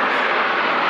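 An F-16 multirole jet passes at the Radom Airshow 2015, a loud, continuous broadband engine roar filling the whole second with no talk.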